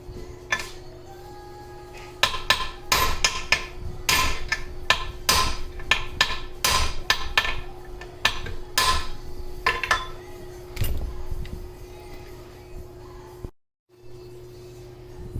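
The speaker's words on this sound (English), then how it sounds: "Might have to get a bigger hammer." A hammer strikes metal again and again during a gearbox teardown, sharp loud clanging blows in irregular bursts, dense at first, then sparser, before a short silence.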